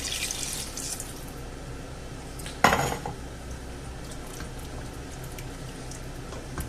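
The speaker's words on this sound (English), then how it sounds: "I'll put the water in." Water runs steadily into a cooking pot of cubed potatoes, with a sharp clank of the pot near the middle and a continuous rushing pour throughout.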